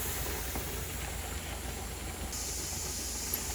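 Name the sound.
steam venting from a pressure canner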